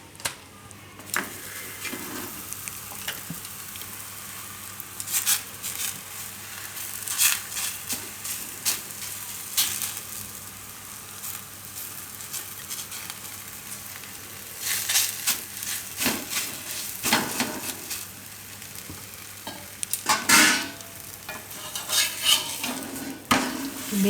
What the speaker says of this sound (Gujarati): તો હવે આપણે આમાં તેલ લગાવી લે હું થોડુંક. અને શેકી લે હું તેલમાં.